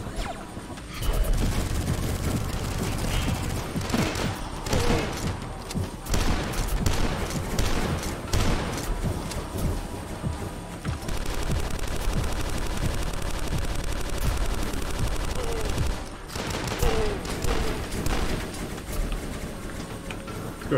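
Rapid, loud bursts of gunfire from a weapon in the retro shooter game Dusk, repeated shots and crashing impacts filling most of the stretch with brief pauses between volleys.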